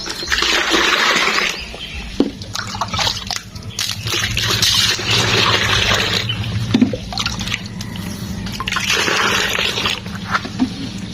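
Water tipped out of a large bucket in a bathroom, splashing and gushing in a couple of bursts with a trickling, dripping tail between them, close and fairly loud.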